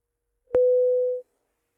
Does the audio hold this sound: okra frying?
no